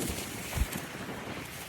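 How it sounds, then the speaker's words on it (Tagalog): Steady, gusty wind roars across the microphone with a brief low thump of buffeting partway through; no voices. "Siguro naririnig niyo yung sigaw ng hangin."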